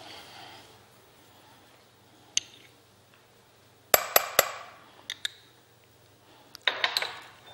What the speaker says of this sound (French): Nous allons maintenant mélanger notre moutarde forte